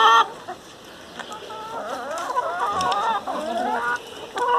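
Healthy hens in a farm coop clucking and calling steadily and close by, a busy overlapping chorus of short cackles and murmurs with no talk.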